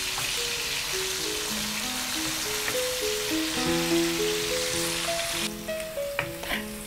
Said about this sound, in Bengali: আলুগুলো আমরা একটু হালকা ব্রাউন করে ভেজে নিব